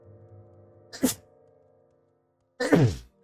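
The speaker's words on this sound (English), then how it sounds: "I'm gonna sneeze though." Two sneezes a couple of seconds apart, close and fairly loud, with faint background hum and no talking.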